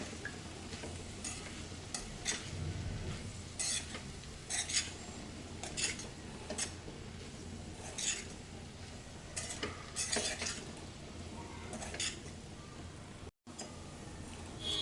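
Potatoes and poha are stirred and mixed in a pan with a spatula, giving repeated scraping clinks against the metal over a faint sizzle, close and steady with no talking.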